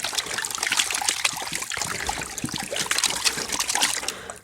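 Water sloshes and trickles in a gold prospecting pan as material is swirled and settled, a steady close wash of splashing and dribbling with no talking.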